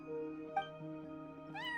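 A single cat meows in the Genshin Impact video game, a short tonal call over steady background game music with no talking.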